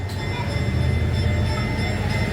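A historic train at the Georgia State Railroad Museum in Savannah rumbles steadily with a low mechanical drone and faint tonal whine, continuous and fairly close.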